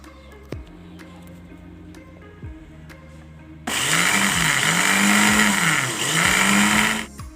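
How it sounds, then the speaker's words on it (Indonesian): An electric blender grinds dried sambiloto leaves, switching on after a few seconds of quiet clicks into a loud, steady whirring roar that wavers as the leaves churn, then cuts off. "Kemudian daun sambiloto kering akan kita blender."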